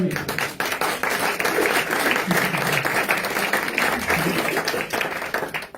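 A church congregation applauds during a consecration service, dense sustained clapping from many hands filling the room, with voices mixed in beneath it.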